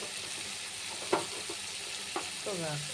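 Tomatoes and turmeric sizzle steadily in a hot pan for mutton keema, with a few close scraping knocks of a spoon stirring as the frying hiss continues throughout.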